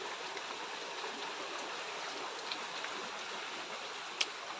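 Steady rain falling outdoors makes an even, continuous hiss at moderate distance, with one or two faint drips or clicks rising briefly above it.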